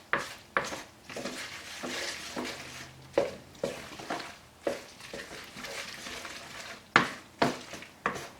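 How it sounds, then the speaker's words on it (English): A spoon stirs milk and cheese sauce together for a macaroni tuna casserole, with faint, repeated scraping and sharp clinks against the dish at an uneven rhythm. "So I'm going to stir all this together."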